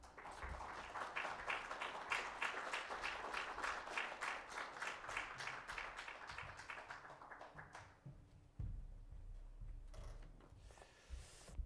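Audience in a hall at a Christian federation memorial worship service gives a big, steady round of applause to welcome a speaker; it is loud and sustained for about eight seconds, then dies away to quiet room noise.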